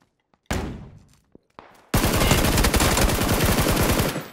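Gunfire in PUBG: a loud single shot with a ringing tail, a couple of faint pops, then a sustained, close burst of rapid automatic fire lasting several seconds.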